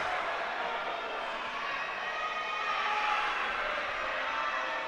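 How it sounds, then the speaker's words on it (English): Crowd at a women's varsity football match, a steady distant murmur and cheer of many voices, moderately loud and unbroken, with no distinct speech. "Crowd getting involved a lot here now"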